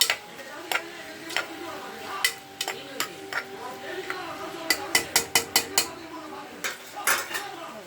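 Onion and tomato sautéing in a pan, heard as repeated sharp clinks of a metal spatula or spoon against the pan in an uneven rhythm, close and fairly loud, with clusters of quick strikes and no talking.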